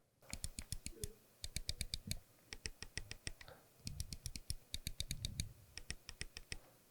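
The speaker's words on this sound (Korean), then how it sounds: "클릭감이 굉장히 강조되어 있는 마우스라고 생각하시면 돼요" Rapid, sharp clicks of a Logitech Lift vertical mouse repeat in quick bursts with short pauses between, close and crisp, a mouse button pressed over and over.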